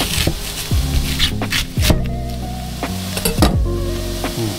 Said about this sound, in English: bacon goes in first